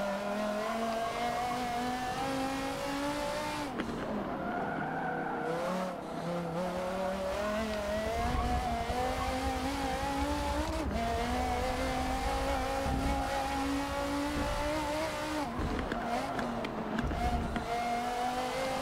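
Hypercars racing in Forza 7: a continuous high engine whine that climbs and drops through gear changes, with an occasional tire squeal, steady and close throughout.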